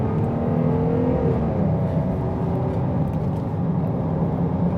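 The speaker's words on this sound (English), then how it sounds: "So I'm going to accelerate quite a bit to see what we got with this V6." 2021 Jeep Grand Cherokee L with a V6 accelerating at highway speed, a steady, loud low engine drone and road roar with a rising tone, heard from inside the cabin without talk.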